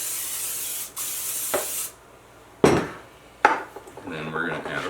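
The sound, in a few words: spraying cooking oil onto baking pan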